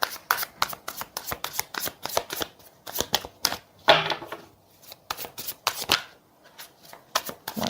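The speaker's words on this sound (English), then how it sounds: "Give me one more card." Tarot cards being shuffled by hand, a steady run of close, crisp riffling and slapping bursts with brief pauses, with no talk over it.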